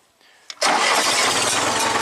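A 1975 International 574 tractor engine cranks briefly and then catches, settling at once into a loud, steady close-up running rumble.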